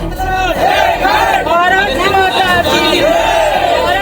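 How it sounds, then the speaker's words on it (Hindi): Large crowd at an OBC protest rally in Bhanupratappur over a six-point demand, a loud continuous roar of many voices with shouting and chanting throughout, close and dense. "ये भीड़ ओबीसी वर्ग के लोगन के है जौन अपन 6 सूत्री मांग ल लेके प्रदर्शन करत हैं।"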